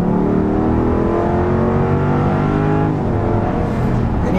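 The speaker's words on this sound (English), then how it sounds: "merging onto the highway is extremely easy here with this nice large engine as well" A Jeep Grand Wagoneer's large engine accelerates onto a highway, a loud continuous rising roar with upshifts heard from inside the cabin, with no talking over it.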